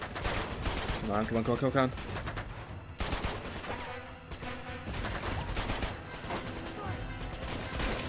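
Gunfire in the video game Uncharted 2, dense bursts of rapid shots that come in loud volleys and continue nearly throughout, mixed with game sounds and a brief spoken voice.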